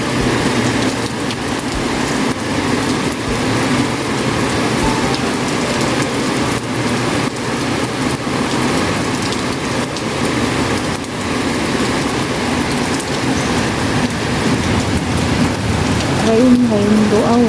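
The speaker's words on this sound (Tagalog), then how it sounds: "Lumakas na pati ang ulan." Heavy rain falling in a dense, continuous loud hiss of drops on surfaces, steady throughout, with a faint voice near the end.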